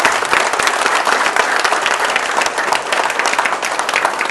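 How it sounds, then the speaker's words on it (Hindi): Loud, dense applause from a seminar audience fills the whole stretch, steady crowd clapping close up with no break and no talk over it. "अच्छा लगा तो तालियां बजा सकते हो आप लोग"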